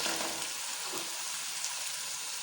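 Goat liver (kaleji) and onions fry in a karahi for a restaurant-style dish, giving a continuous, fairly loud sizzle with no voices.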